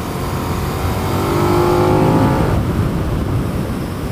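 A 2020 KTM Super Duke 1290 R motorcycle engine roars loud and close, its pitch climbing steadily as the revs build before dropping away, with a constant rushing noise underneath.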